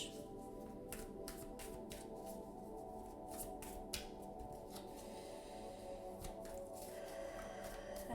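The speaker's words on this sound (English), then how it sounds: "So I'll pull 3 cards for starting with air" Tarot cards shuffled and drawn by hand, giving a close, steady run of soft papery riffs and crisp slaps over a low background hum, with no voices.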